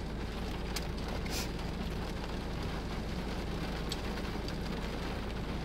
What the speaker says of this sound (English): Yeah, it is raining.